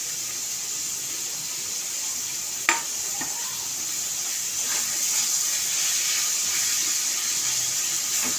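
Ginger and garlic paste frying in a pan, giving a steady sizzling hiss throughout, with a sharp clatter of a utensil near the start and a few light stirring scrapes.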